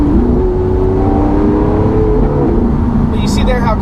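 A 2016 Lamborghini Aventador SV engine drones at low revs, its pitch sagging slightly as it lugs, while someone talks over it from inside the car.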